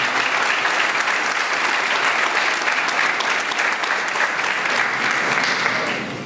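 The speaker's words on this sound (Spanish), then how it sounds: "al doctor César Nagasaki Seribigón, para quien pido desde ya un fuerte aplauso y una fuerte bienvenida" Loud, sustained audience applause at an evening legal lecture welcoming a doctor to the podium, a thick continuous roar of clapping hands that holds steady for several seconds and eases slightly at the end.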